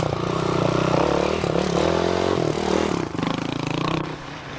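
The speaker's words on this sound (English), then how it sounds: "Paul Mail was having a bit of trouble getting his Kawasaki to go in the right direction" Kawasaki trials motorcycle ridden over a rough course at Rhayader, its engine buzzing and revving with rising and falling pitch, fairly close and loud, then dropping away and fading near the end.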